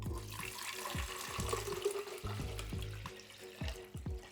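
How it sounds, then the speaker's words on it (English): Fresh water runs from a tap into the plastic water tank of a Nespresso Vertuo Up coffee machine, a steady close splashing and filling sound with soft low gurgles. "grab the tank, and you're going to go ahead and fill it up with fresh water."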